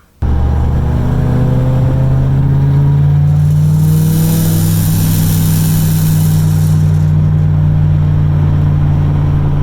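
A Mazda Miata with a drivetrain problem starts and then drives, its engine holding a steady loud drone with a rising whine and harmonics through the middle, close and continuous with no voices.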